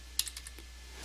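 A computer keyboard is typed on up close, with a short run of about five light clicks that fade out quickly and leave a quiet hum behind them.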